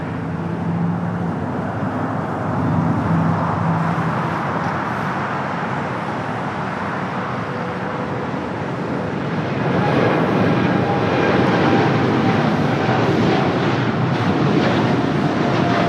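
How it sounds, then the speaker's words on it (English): A United Boeing 787 Dreamliner rolls down runway 25 right at LAX, its broad jet roar steady and distant at first, then swelling louder and fuller as thrust builds, mixed with wind rumble. "All right, the United Dreamliner now rolling it down to 25 right."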